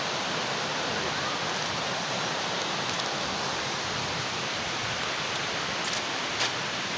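A creek's water rushes in a steady, continuous broadband wash with no breaks, close by and fairly loud, during an outing to bathe in the stream.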